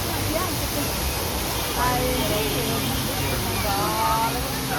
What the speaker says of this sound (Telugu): బాగుంది వాటర్ ఫాల్. ఈ జర్నీలో ఫస్ట్ వాటర్ ఫాల్.